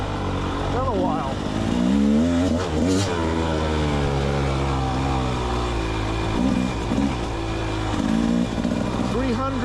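A Rieju MR300 Pro 300cc dirt bike engine revs up and down while riding off-road, its loud, close engine note rising and falling in pitch through the throttle changes.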